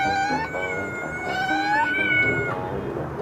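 Hungry cats compete at meowing the longest, producing loud, close, prolonged overlapping meows and caterwauls whose pitch rises and dips, continuous from start to finish.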